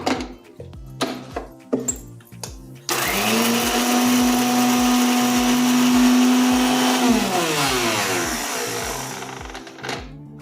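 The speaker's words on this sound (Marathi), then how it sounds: "तर ही मिक्सरला फिरवून घेते मी" A mixer grinder blitzes garlic and cumin, starting after a few clicks and taps, then holding a loud, steady whir for several seconds before winding down.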